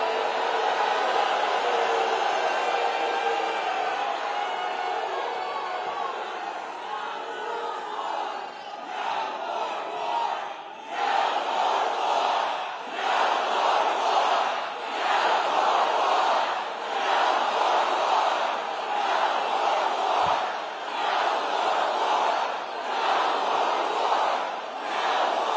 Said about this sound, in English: The crowd's cheering because they know under Trump, we're not playing defense.